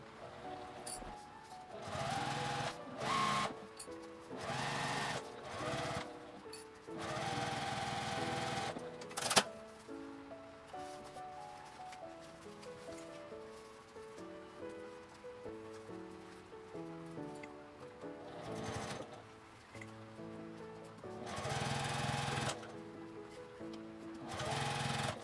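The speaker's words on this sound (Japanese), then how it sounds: "同じように 5mm の縫い代で縫って表に返して端ミシンをかけます。" A sewing machine edge-stitches fabric near the edge after a 5 mm seam, running in short, quiet bursts of rapid stitching separated by pauses, with soft music underneath.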